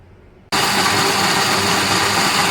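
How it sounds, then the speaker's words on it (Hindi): A blender grinds melon and sugarcane seeds with sugar and water, kicking in abruptly after a quiet moment and running as a loud, steady, close whir. "अब मैं इसको ग्राइंड कर लूँगी"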